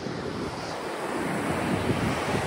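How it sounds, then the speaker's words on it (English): Ocean surf rolls onto Virginia Beach on a cold, windy day, a continuous close roar of breaking waves with heavy wind buffeting the microphone and no voices. "Run from the waves."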